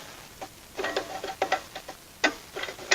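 Sharp mechanical clicks from the toothed adjuster wheel of an electric trailer brake, in small irregular bursts, close by, some single and some in quick clusters, with a quiet background and no talking.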